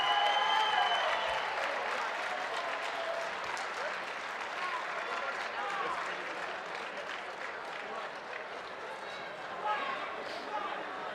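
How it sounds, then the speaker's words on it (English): A crowd at a featherweight boxing bout applauds the fighters, steady moderately distant clapping with a ringside announcer talking over it. "Ladies and gentlemen, have a round of applause for these fighters."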